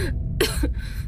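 A short burst of two or three close coughs from a girl, harsh and breathy, with no talking around them.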